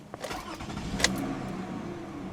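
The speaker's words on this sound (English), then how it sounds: "let's hear that wonderful 2GR-FE V6 start" A 2008 Toyota Camry XLE's 2GR-FE V6 engine cranks and catches, then settles into a smooth, quiet idle with a brief sharp transient near the start.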